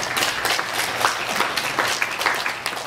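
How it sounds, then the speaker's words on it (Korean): A church congregation breaks into enthusiastic applause during a Sunday worship service, dense overlapping clapping that stays loud and steady throughout, with a faint voice underneath. "우리 하나님 앞에 영광의 박수 올려드리겠습니다"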